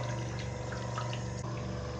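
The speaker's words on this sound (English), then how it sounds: "I generally just run some hot water in here to clean it out" Hot water runs steadily from a tap into a tortoise's water dish as it is rinsed clean, a continuous close splashing flow with a brief shift near the end and no talking.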